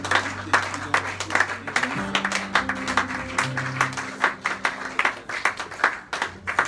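A church congregation gives sustained rhythmic applause in acclamation of God, with loud steady clapping, a sustained keyboard tone and voices mixed in.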